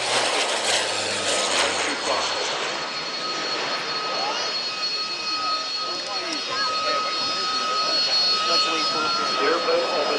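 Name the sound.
turboprop airliner flying at Woodford Airshow 1994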